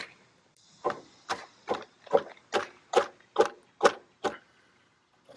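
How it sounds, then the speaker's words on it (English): Nine sharp hammer knocks on wood slices, evenly spaced in a steady rhythm, close and fairly loud, with a faint hiss beneath. "all you gotta do is hit them with the hammer."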